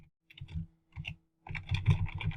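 Keyboard keys clatter in three short bursts of rapid typing, a brief flurry, another after a pause, then a longer denser run, close and clear with no voices.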